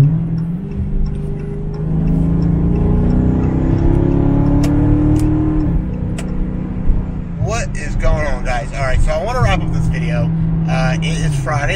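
A Dodge car's engine hums steadily from inside the cabin, a low drone rising slightly as it drives off, while a person talks over it toward the end.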